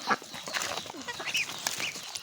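Hens fed on azolla cluck softly nearby in short, scattered calls, with a few brief squawks in between.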